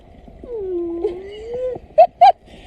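A voices an imitation of a whale song aboard a Hawaii scuba dive outing: a long, wavering, sliding moan followed by two short, sharp high-pitched squeaks, near and fairly loud.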